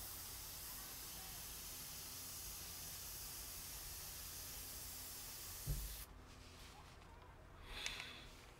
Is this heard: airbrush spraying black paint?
yes